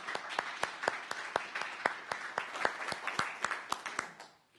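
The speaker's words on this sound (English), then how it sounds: "Let's give a round of applause for everybody in the university service." Applause at a university senate meeting honoring service staff, many hands clapping at close range in a dense steady patter that tapers off near the end.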